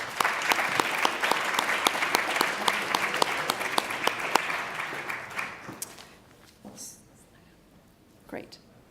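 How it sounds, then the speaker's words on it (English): An audience at a collegiate energy competition pitch event gives a round of applause for a presenter, with crisp individual claps standing out in the dense clapping before it tapers off into quiet room sounds and faint talk. "let's have a round of applause for Gurjot Sethi"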